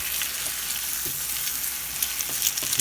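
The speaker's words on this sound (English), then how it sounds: "all you do is you take your fork and you stir it up" Bacon and crumbled potato scramble sizzles steadily in a hot pan while a fork stirs it, with a few soft scraping clicks near the end over the continuous frying hiss.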